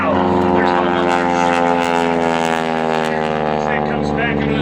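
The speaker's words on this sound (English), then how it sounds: "Power push forward to that big 985 cubic inch, 450 horsepower, 9-cylinder, supercharged Pratt Whitney radial engines." An aerobatic airplane with a supercharged 985 cubic inch, 450 horsepower, 9-cylinder Pratt Whitney radial engine roars loud and steady at an air show, its drone holding a sustained tone that slowly falls in pitch, with a voice speaking over it.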